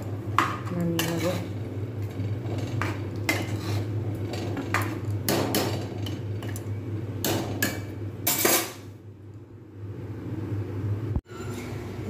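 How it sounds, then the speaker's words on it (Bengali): Metal woks and pans are scrubbed and handled in a home kitchen, with scattered clanks, scrapes and knocks at moderate distance and a low steady hum beneath. "কড়াই শুধুগুলো সব পরিষ্কার করে রাখা হচ্ছে"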